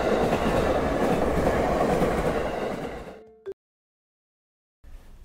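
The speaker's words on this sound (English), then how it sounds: "Train." A train rumbles past with a clattering roar that fades away, followed by a sharp click and a moment of silence before faint noise resumes.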